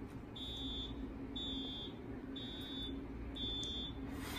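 Ride startup warning alarm on a NoLimits 2 roller coaster control panel, a high electronic beep pulsing four times at an even pace over a constant low background hum.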